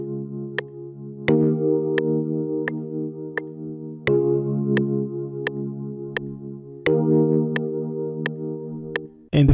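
Gospel worship beat chord progression played back, sustained keyboard chords changing every few seconds under a steady sharp ticking click, clean and close with no voices.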